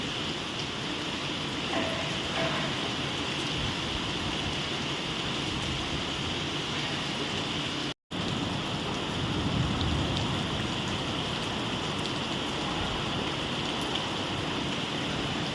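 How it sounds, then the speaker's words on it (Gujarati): Heavy rain pours steadily in Ahmedabad during Navratri, a dense continuous hiss of drops lasting throughout, broken only by a brief cut of silence midway. "ફૂલ વરસાદ"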